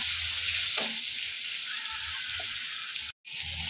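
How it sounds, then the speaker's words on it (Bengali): Mango pieces fry in a pan with spices, turmeric and asafoetida, for a tangy-sweet drumstick pickle, giving a steady, close sizzle with a couple of soft stirring scrapes and one very brief cut-out near the end. "এবার আমি হলুদ গুঁড়ো দিয়ে দিচ্ছি 1 চা চামচ। আমটা ভালো করে ভেজে নেব।"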